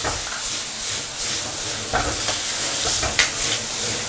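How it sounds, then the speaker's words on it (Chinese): Eel stir-fried over high heat in a wok with pickled chilies, ginger, scallion and garlic gives a loud steady sizzle and hiss, broken by scraping tosses of the spatula against the pan. "下入我们的鳝鱼，大火去翻炒它"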